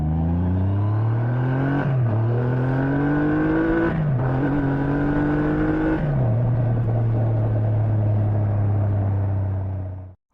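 Triumph Rocket 3 GT motorcycle accelerating, its deep engine note rising in pitch through three quick gear changes with brief dips between shifts, loud and close, then settling into a steady drone before cutting off.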